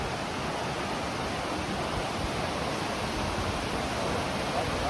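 Steady rushing of a mountain stream in a Dolomites canyon, broadband and constant, water flowing nearby with no pauses.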